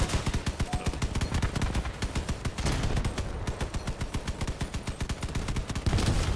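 Trombone weapons firing in the vehicle combat game Crossout, a loud, steady rapid-fire volley of booming shots repeating in a fast regular rhythm for the whole stretch.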